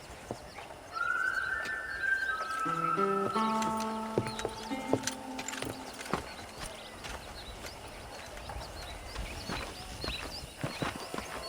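Hooves clip-clop on the ground in the game Red Dead Redemption, a steady rhythm of close hoof strikes, with a horse's whinny near the start over faint background ambience.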